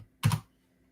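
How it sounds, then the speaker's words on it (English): A brief burst of a few quick keystrokes on a computer keyboard, close and soft, clustered within a fraction of a second amid near silence. "Okay, I'm typing it."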